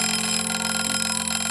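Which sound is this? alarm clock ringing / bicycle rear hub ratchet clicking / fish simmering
alarm clock ringing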